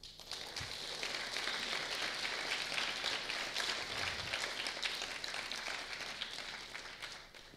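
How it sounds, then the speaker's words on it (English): A faint, steady round of applause fills a hall for the finalists of a university Three Minute Thesis symposium finale, sustained clapping from a large audience with no clear voices over it. "a big round of applause for our finalists"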